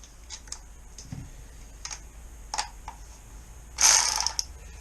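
A hand ratchet snugs exhaust header bolts on a 1988 Kawasaki ZX10B motorcycle, giving a few scattered clicks followed by a louder burst of rapid ratcheting near the end, close and clear with no talk.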